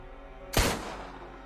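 A single sharp gunshot sound effect cracks out suddenly, loud and close, then trails off in a short echoing decay during a Call of Cthulhu tabletop role-playing session.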